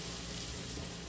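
Chicken fillets, four to a frying pan, sizzle in foaming butter with a steady, dense crackle close by and no voices.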